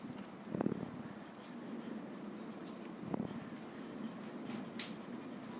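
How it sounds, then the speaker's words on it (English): A graphite pencil pressed hard on paper while shading a tangle tile: a steady, close scratching rasp with periodic stroke accents, heard alone at low volume. "pressing the pencil hard"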